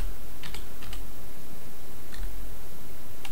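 A few short bursts of clicking keystrokes sound as a command is typed on a computer keyboard while a Nexus 7 is set up, sparse and close over a steady hiss.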